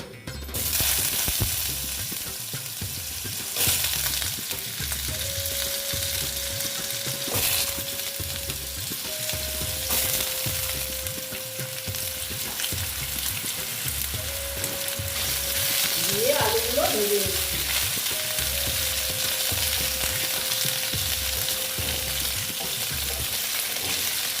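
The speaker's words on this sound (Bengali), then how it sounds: "আলুগুলো আমি ফিফটি পার্সেন্ট ভেজে নেব" Potatoes with panch phoron and turmeric fry in a pan for a vegetarian pumpkin chhokka, holding a long, steady, close sizzle with stirring scrapes and faint tonal hum in the background, without speech.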